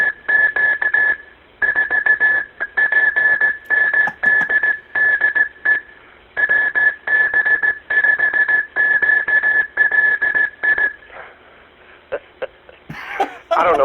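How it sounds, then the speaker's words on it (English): A shrill, steady whistle tone from an Oscar Mayer Wienermobile toy whistle, pulsing in short and long bursts with brief gaps, a Morse code rhythm, close and loud, ending with a few clicks and rustles. "that is sending Morse code with a Oscar Mayer Wienermobile whistle"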